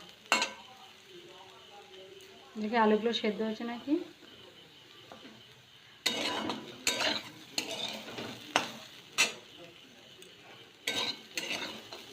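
Spices being stirred as they fry in a pan, with a soft sizzle beneath scraping and clinking of a utensil against the pan in repeated bursts, and a voice speaking briefly partway through.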